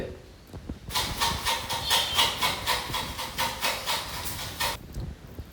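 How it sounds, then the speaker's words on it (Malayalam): A pot of water coming to a boil for eggs for a roasted-coconut egg curry gives off a steady hissing, bubbling rush that swells and pulses for several seconds, close by, with no one talking over it. "ഇതാ അവിടെ തിളച്ചു വരുന്നുണ്ട്"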